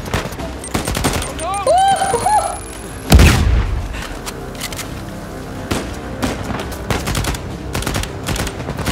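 A gun fires in Uncharted 4: A Thief's End, one heavy booming shot followed by a string of quicker, fainter bursts, with in-game chatter sounding earlier.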